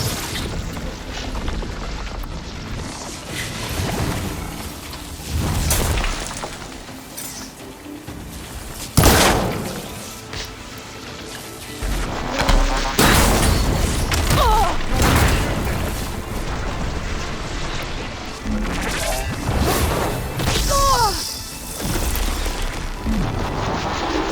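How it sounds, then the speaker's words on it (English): Supporting fire from above in Horizon Forbidden West, heard as scattered booms and bursts, one sharp loud blast near the middle, spread over a busy game battle. "Zoe's helping us out, firing from above."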